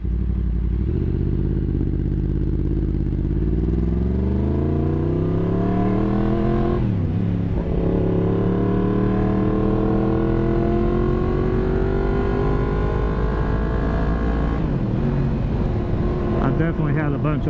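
Yamaha FZ10 motorcycle engine revving hard while riding, a loud continuous roar climbing steadily in pitch through the gears with a brief dip at a shift, wind noise throughout.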